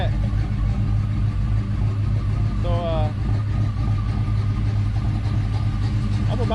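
A Chevy Nova fitted with a Holley EFI Sniper idles with a steady, rumbling mid-pitched engine drone up close while someone talks over it.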